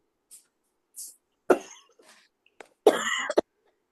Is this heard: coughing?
yes